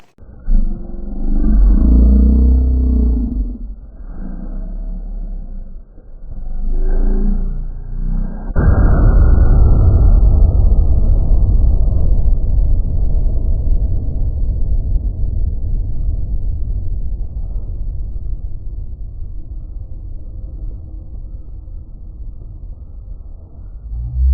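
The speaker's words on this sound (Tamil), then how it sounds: "ஆனால் இதுவே சின்ன வெடி தான், இதுலேயே பெரிய வெடி தான் இருக்குது" Nattu vedi country-made firecrackers set off for Diwali: deep, booming blasts with a long rumbling decay, very loud and close, clipped at the start and fading slowly afterward.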